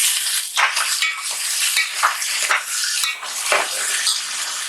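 Raw onion sizzles loudly in a pot for mutton dal gosht, the frying hiss swelling and dipping as a spoon stirs and scrapes through it in uneven strokes, close up with no talk.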